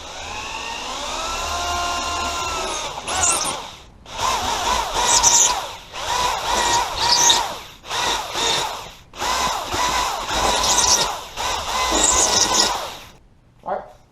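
A masonry bit bores into the center of a concrete block for a garage shed door, the drill whining in repeated bursts with short pauses between them, loud and close.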